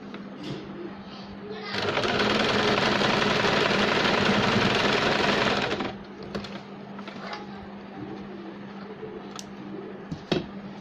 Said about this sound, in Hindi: जहाँ से हमने गैप रखा था यहाँ से हम एक सिलाई लगा देंगे